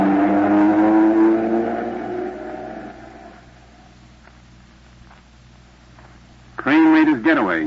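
A getaway car speeds off in a 1950s radio crime drama, its engine roaring loud and close before fading into quiet, with a voice cutting in near the end.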